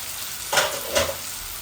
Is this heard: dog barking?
no